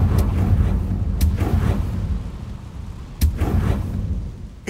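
A Confringo spell blast in Hogwarts Legacy, booming explosive bursts with a sharp crack near the start and another heavy blast past the middle, over a dense low rumble.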